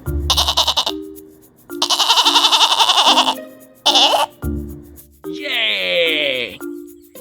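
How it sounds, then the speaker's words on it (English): Toy goat bleats loudly several times in a children's animal video set in a paddy field, wavering cries separated by an adult voice speaking cheerfully between them. "It's a goat."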